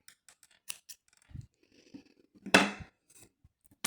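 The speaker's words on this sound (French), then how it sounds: "on coupe le fil" Scissors snip through crochet yarn in a few quick, close, crisp cuts with soft rustling handling noises between them.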